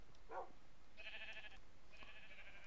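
Sheep in the Minecraft video game bleat in short, nasal calls, two or three separate bleats spaced over a couple of seconds, fairly close and clear with no speech.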